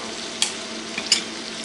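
A spoon stirs ingredients with tomato sauce in a skillet under a continuous low sizzle, with a couple of brief scraping clinks against the pan.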